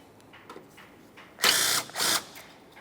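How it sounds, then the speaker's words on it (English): Someone undoes a 10mm bolt on the window motor of a 1994–1997 Honda Accord with a power tool, giving two loud whirring bursts after a few faint ratchet clicks, close up with no talk. "Remove this 10mm headed bolt so we can gain access to that electrical connector."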